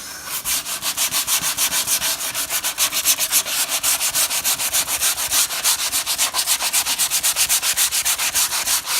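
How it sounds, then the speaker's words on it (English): Cheap sandpaper rubbed back and forth over wood in quick, regular strokes, a steady rhythmic scratchy rasp up close for the whole stretch. "That's like 4 quid's worth of sandpaper there."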